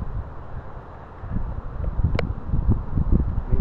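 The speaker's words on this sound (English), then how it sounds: "The wind is going all over." Strong storm wind gusting during a thunderstorm with a gustnado overhead, roaring and buffeting close against the microphone in a steady low rumble that swells louder toward the end, with no voices.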